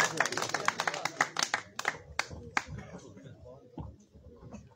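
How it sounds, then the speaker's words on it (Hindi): An audience at a Pothwari poetry recital claps, a quick flurry of close hand claps that thins out into scattered, fading claps, with voices murmuring underneath. "दोस्तों ने भरपूर तालियां"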